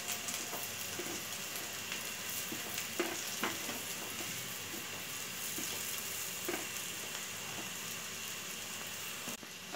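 Vegetables frying in a pan with salt and chili flakes, cooked briefly to keep them crunchy for white sauce pasta, give a steady close sizzle with scattered crackles and light stirring clicks throughout, no voices.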